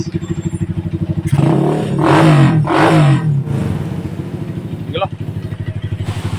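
A Honda GL Pro motorcycle engine idles without throttle, a steady near thumping rhythm, with a stretch of louder clattering and voices talking over it midway before the plain idle returns.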